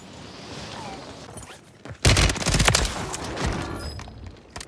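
Rapid submachine gun fire from an FJX Horus SMG in the video game Warzone 3, a sudden loud burst of automatic shots that keeps rattling for a few seconds, then trails off.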